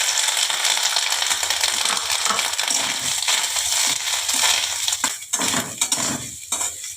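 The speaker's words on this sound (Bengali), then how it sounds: "এবারে নারকেল কোড়াটা ভাজবো" Grated coconut is stirred and fried in a pan, giving a steady close crackling sizzle with scraping spatula strokes that grow choppier toward the end, and no voices.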